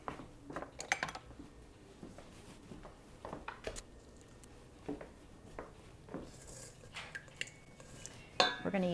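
Kitchen utensils clatter and clink in scattered bursts while a spatula is fetched, quiet knocks of metal and dishes with a sharper rattle near the end.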